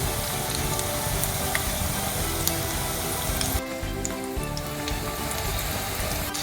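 A fake chicken-leg snack deep-frying in oil, a steady, close, loud sizzle like heavy rain that dips briefly partway through, then carries on, with no voices.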